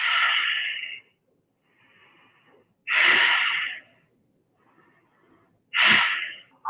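Three deep, forceful breaths taken during a floor exercise, each a loud close rush of air lasting about a second, separated by quiet pauses.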